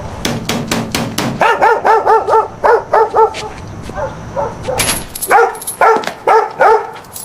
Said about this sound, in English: From the sound of that bark, that ain't no little dog.